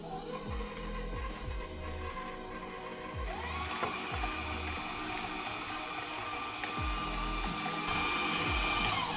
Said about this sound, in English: Turn the mixer on.